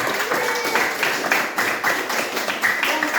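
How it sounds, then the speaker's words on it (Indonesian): Classroom applause at a junior high school in Central Maluku, students clapping for a presenting group; a steady, dense patter of many hands held at an even level throughout, fairly close. "Kita semua berikan tepuk tangan kepada kelompok"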